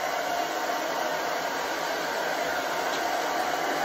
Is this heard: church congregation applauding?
no